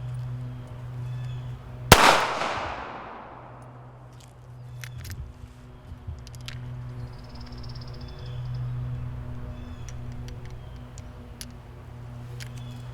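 A single sharp pistol shot at shooting practice rings out close by and decays over a second or two, followed by quiet range ambience with faint shuffling and small clicks.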